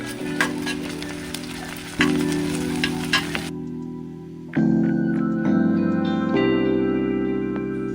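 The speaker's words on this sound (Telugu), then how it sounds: "అల్లం వెల్లుల్లి పేస్ట్ కూడా వేసుకొని పచ్చివాసన పొయ్యేంత వరకు ఫ్రై చేసుకోవాలి" Onions, green chillies and ginger garlic paste frying in a pan, a steady close sizzle with brief stirring scrapes and bumps, the hiss dropping and swelling as ingredients are added.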